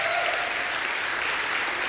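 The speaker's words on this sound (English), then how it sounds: "That's a little more tepid applause for that one" Lukewarm audience applause at Microsoft's Windows 10 Devices event, a brief, steady wash of many hands clapping at an even, moderate level.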